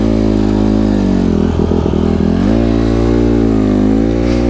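A Honda CRF150RB dirt bike, set up street legal, runs loud and close in a steady engine rumble with a brief uneven patch mid-clip, heard on its own.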